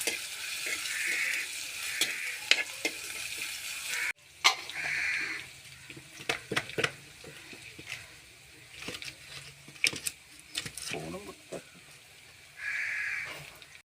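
Onions with ginger and garlic fry in a pan for curry, giving a soft sizzle under repeated stirring scrapes and taps, moderately close with brief quieter gaps.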